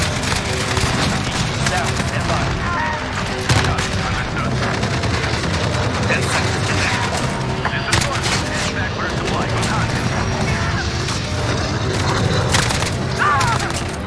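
AK-47 with a trophy mount in Modern Warfare, fired in steady repeated shots during a multiplayer match alongside other gunfire and booms, a dense, continuous firefight heard throughout.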